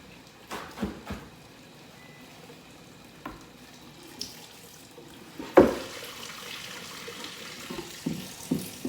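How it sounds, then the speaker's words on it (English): Water runs from a kitchen tap while a cutting board is rinsed during beef stew prep, a faint steady hiss with scattered clunks and knocks of the board against the sink. "Rinse this board off, and then I'm going to turn it on the other side to use it."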